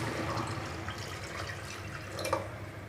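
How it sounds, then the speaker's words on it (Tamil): Water poured into a pot of Tamil salmon fish kulambu, a steady, close splashing and running flow lasting throughout with no talk. "அதுக்கப்புறம் தேவையான அளவு தண்ணி ஊற்றி"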